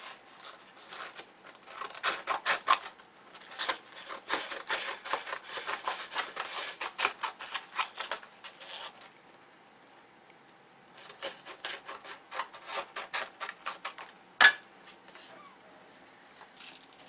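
Model aircraft flaps being hand sanded make rapid, soft scratchy strokes in bursts, close and fairly quiet, with a pause in the middle and one sharp tap near the end.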